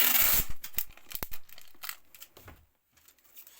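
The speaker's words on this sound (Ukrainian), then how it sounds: "Теж скотчем фіксуємо." Adhesive tape is ripped and pulled in a few sharp, crackling bursts close by, fixing a cup to cardboard while packing a pelargonium cutting, then quiets to faint handling noise.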